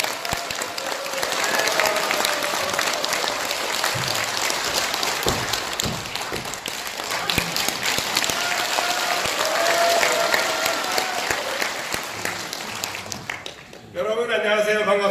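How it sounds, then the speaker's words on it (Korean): An audience at a Korean conservative debate forum claps loudly as a speaker is called up, a dense, sustained round of applause that fades and gives way to a voice at the very end. "큰 박수로 환영해 주시기 바랍니다."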